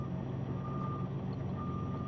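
An off-road work truck with an Eaton Cummins Endurant XD Pro automated transmission backs up between piles and equipment, its reversing alarm beeping steadily over a low, constant engine rumble.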